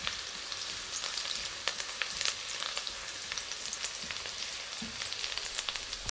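Garlic frying in oil left from cooking tofu and spam, a steady close sizzle with crackling pops spread throughout, no voices.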